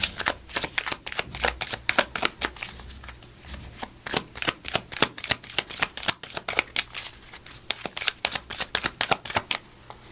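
Oracle cards being shuffled in a steady run of crisp riffling bursts and soft slaps, close and fairly loud, continuing throughout with no voice over them.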